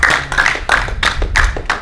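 An audience claps for a man in brisk, close, rhythmic bursts of applause that fill the short moment without any talk.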